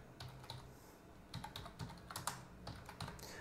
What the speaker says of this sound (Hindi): यहाँ पर टाइप करिए जैसे कुछ